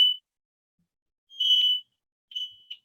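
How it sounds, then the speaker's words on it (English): A smoke alarm chirps in short, shrill electronic beeps, three bursts separated by silence, fairly loud and close. "Sounds like a smoke alarm."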